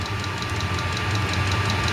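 A Chinese 8 kW diesel heater runs with a steady, even hum and a faint rhythmic ticking, holding constant with no voices.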